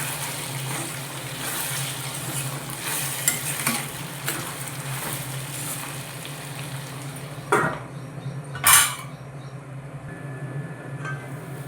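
Food frying in a pan on a home kitchen stove, with garlic and spice powder added, stirred with a utensil: a steady sizzle throughout, with a couple of sharper scrapes and clinks near the end.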